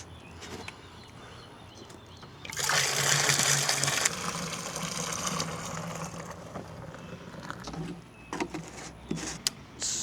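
A whole jug of soap pours into a bucket of water for pressure washing, a loud, steady gushing rush lasting a couple of seconds, then easing into a softer, continued trickle and splashing, with scattered knocks toward the end.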